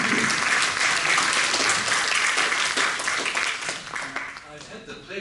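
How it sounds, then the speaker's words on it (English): Loud, dense audience applause at a conference plenary on declining fertility rates, steady at first and then thinning out toward the end, with voices audible beneath it. "could we all just have a big round of applause for Professor Houston Quah and his team"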